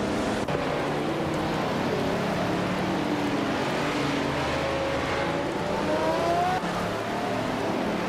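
Porsche 936 race cars roar steadily through a racing video game, a dense continuous engine drone with rising pitch sweeps as cars accelerate and pass, no talking.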